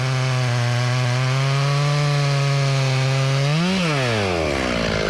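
A chainsaw bores into a tree trunk during felling, running at a loud, steady buzzing pitch close by, then the pitch dips and rises again as the bar works into the wood.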